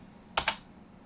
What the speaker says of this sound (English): I type ls-l